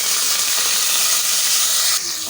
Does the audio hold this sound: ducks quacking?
no